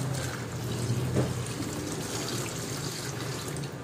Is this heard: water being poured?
yes